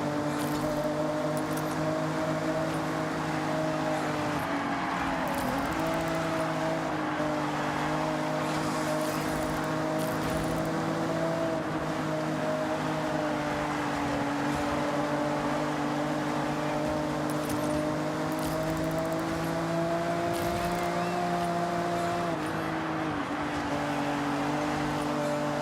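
A car engine in Forza Horizon 6 hums steadily and loud for the whole stretch, its tone rising and dipping slightly with throttle rather than sharply revving out, with no talk over it.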